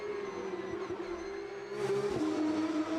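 A 510-horsepower Porsche 992 GT3 Cup race car revs hard, a sustained high engine whine that climbs and surges louder partway through, up close and with no one talking.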